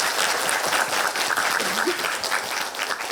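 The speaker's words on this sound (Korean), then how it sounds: "다시 한번 여러분들 큰 박수 부탁드립니다." Audience applause after a lecture at a community economics concert on financial education for North Korean defector students, a broad sustained clapping wash at steady volume throughout.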